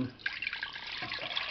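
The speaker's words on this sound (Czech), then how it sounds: "Tak, teď doplním" Water pours into a pot while a dish is being cooked, a faint, close trickle and splash that runs steadily with small drips throughout.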